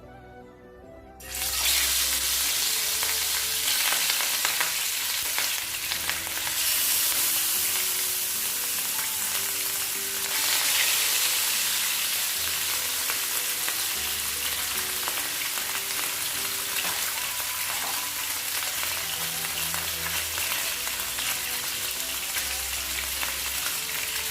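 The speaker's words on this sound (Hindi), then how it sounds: "तेल पे हमर भलसे गरम हो गलानी, एबे माछ पकेबा।" Rohu fish fries in hot oil in a pan for a Odia-style curry, giving a sustained, dense hiss and crackle. Low thumps and faint clatter sound under it, and no one speaks.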